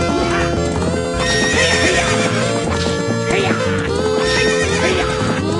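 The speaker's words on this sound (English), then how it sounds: "I let the horse fully recharge that time." Rapid hoofbeats pound beneath a steady wash of game music during a horse race in The Legend of Zelda: Ocarina of Time, with a horse neighing now and then over the dense, continuous backdrop.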